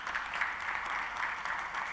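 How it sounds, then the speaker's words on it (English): Audience applause at a Gateway Gulf 2024 conference session, a steady dense clapping that stays even and fairly loud for the full stretch with no voices on top. "I think that deserves a round of applause."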